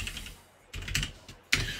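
A few bursts of keystrokes on a computer keyboard while entering a search, close and crisp, separated by brief pauses.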